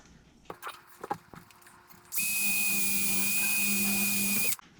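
A power drill bores a hole in a car's rear shock tower for a brace install, a loud steady whine of about two and a half seconds after some handling clunks, close by.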